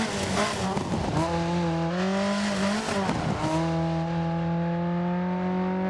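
An Opel Manta 400 rally car drifting on dirt in Dirt Rally 2.0, its engine howling loudly with rising and falling revs as it slides, tires scrubbing on the loose surface, close and continuous.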